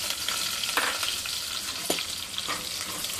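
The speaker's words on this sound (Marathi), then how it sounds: "छान असं परतून घेऊया कढीपत्ता पण." Curry leaves sauté in hot oil in a pan, giving a dense, close crackling sizzle with a few brief scraping stirs.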